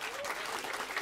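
Warm applause from a jazz club audience welcoming musicians to the stage, a short, fairly faint burst of clapping.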